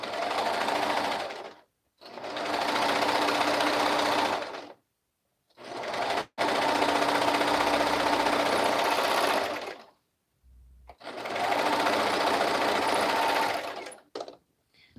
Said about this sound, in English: So I sew all my body pieces together for all the ones that I have laid out here.